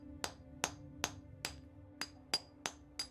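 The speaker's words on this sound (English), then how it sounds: "Hammer and chisel to weaken the wall." Hammer striking a chisel against a stone wall in the video game Pillars of Eternity, eight sharp metallic taps in an even rhythm, loud and close, with a low hum underneath and no talk.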